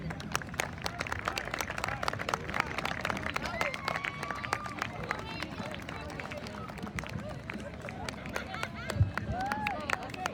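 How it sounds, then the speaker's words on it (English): Outdoor crowd at a boys' high school soccer senior night applauding the senior players, steady scattered clapping and cheering at moderate distance with voices and crowd noise mixed in throughout. "Fans, let's give them a round of applause."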